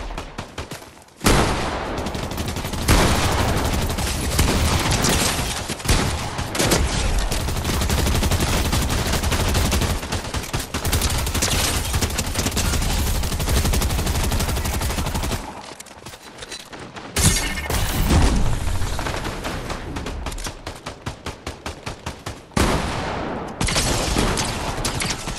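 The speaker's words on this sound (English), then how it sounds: "Somebody else shooting way over there." Rapid bursts of video game gunfire from bots shooting at each other, dense and sustained, with short gaps of quiet and sharp, cracking shots throughout.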